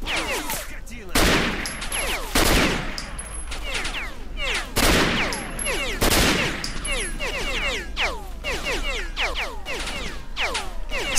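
Rapid bursts of gunfire crackle repeatedly in the game S.T.A.L.K.E.R.: Shadow of Chernobyl, mixed with sharp sweeping game effects and a few thumping blasts, dense and continuous throughout.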